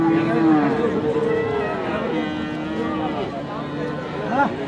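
Sahiwal cattle and bull calves at a livestock market in Ranigonj, Ghoraghat, Dinajpur, give a long close moo and shorter lowing calls over a busy crowd murmur, with people talking nearby.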